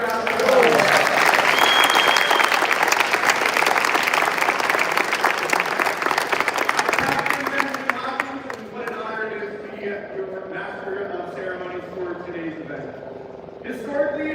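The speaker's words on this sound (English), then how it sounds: "Can we get a round of applause?" Audience applause at a 310th Fighter Squadron change of command ceremony, loud and dense for about eight seconds before thinning out as a voice begins speaking.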